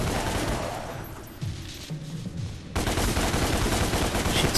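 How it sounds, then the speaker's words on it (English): Continuous rapid gunfire from shooting spiders in the video game Devil May Cry, loud dense bursts that briefly thin out before resuming at full intensity. "Shoot some spiders."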